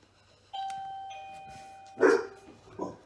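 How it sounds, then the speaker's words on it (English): A two-tone doorbell chime rings out clearly, its tones lingering, followed by a single dog bark. "That's the doorbell"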